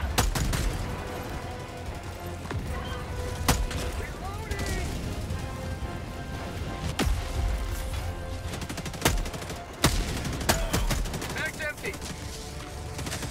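Rapid gunfire bursts and sharp booms from a Helldivers 2 firefight crackle throughout, dense and loud, with voices talking over the shooting.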